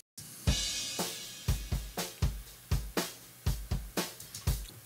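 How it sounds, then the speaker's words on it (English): Uncompressed room microphones on a drum kit pick up a steady groove of kick and snare hits with cymbal wash, clean and gentle with natural decay between the beats. "Let's listen to them without compression first."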